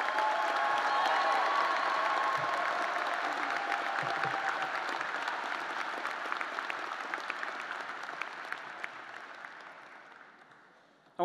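Sustained audience applause at a Michigan Ross business school graduation ceremony, a dense wash of many hands clapping that holds steady, then gradually thins and fades toward the end.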